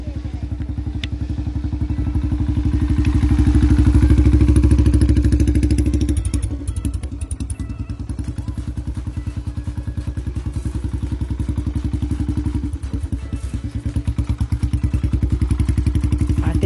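A Royal Enfield motorcycle ridden by a twelve-year-old boy thumps along in its heavy single-cylinder rhythm, close and loud, the engine swelling then settling into a steady chugging beat with occasional clatter.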